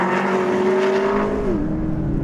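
Toyota GT86 Turbo and McLaren MP4-12C racing, one car's engine droning loud and close at a steady high pitch before dropping slightly as it shifts, with a constant rushing roar behind and no talk.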